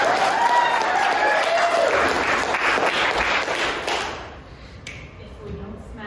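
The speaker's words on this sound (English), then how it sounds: "Can we give them a round of applause before we begin?" Audience applause at a class show, loud sustained clapping that tapers off after about four seconds into quieter room sound with a few stray sounds.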